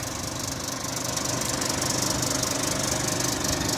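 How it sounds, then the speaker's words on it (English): The Euro 5 Scania engine of a 2012 Scania K360IB 4x2 Irizar i6 coach runs at a steady, rumbling idle, close and continuous with a slight knocking texture throughout. "Euro 5 Scania engine that's driven through Scania's automated OptiCruise"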